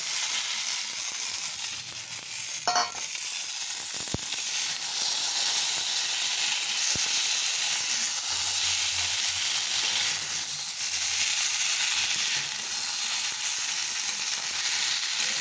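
Fried eggplant goes into a pan of vegetable curry with soft tomato and potato, and a strong, steady sizzle fills the whole stretch. It sounds close and continuous, with a few faint clinks and no voices.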